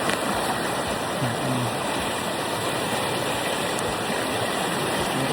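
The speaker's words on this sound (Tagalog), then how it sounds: "Ulan talaga, malakas ang ulan." Steady, dense broadband hiss of heavy rain pouring down continuously, loud and close, with no voices over it.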